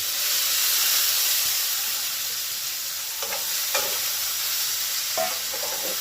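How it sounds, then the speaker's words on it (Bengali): Chopped capsicum and tomato fry in a hot pan with whole cumin seeds for a spicy potato curry. A steady, close sizzle and hiss runs throughout, broken by a few soft stirring scrapes. "এবারে কেটে রাখা ক্যাপসিকাম কুচো আর টমেটো কুচোগুলো এতে দিয়ে ভাজা করব।"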